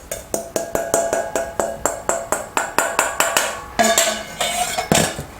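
Icing sugar being mixed into carrot cake frosting in a bowl, a utensil striking the bowl in steady, evenly spaced clinks about four per second, close and clear, with a few heavier scrapes near the end.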